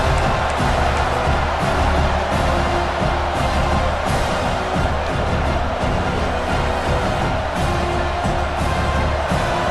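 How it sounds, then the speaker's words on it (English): A stadium crowd in the college football video game College Football 26 roars in a dense, steady wall of noise that holds at full volume for the whole stretch without breaks. "The roar of the crowd trying to fuel this defense to keep them pinned in their own end."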